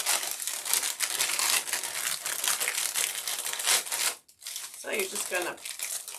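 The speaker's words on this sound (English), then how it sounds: "pull some of this Spanish moss out like this" Dry Spanish moss being pulled apart by hand to make a sunflower wreath, a close, crisp crinkling and tearing rustle that runs continuously and then breaks off, with someone speaking over it.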